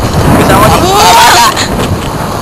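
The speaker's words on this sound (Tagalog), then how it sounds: "Malakas po ang hangin ngayon." Strong storm wind at a baywalk roars and buffets steadily throughout, a thick rushing noise with indistinct voices faintly underneath.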